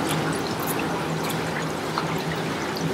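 A whole snapper deep-frying in hot oil, a dense, steady hiss and crackle that stays loud and unbroken from start to finish.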